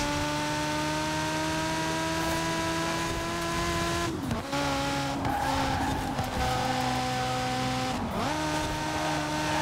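A race car in Forza Horizon 4 on an oval circuit holds a steady engine whine, then brakes hard with repeated downshifts and tire skids, its pitch dropping and recovering several times.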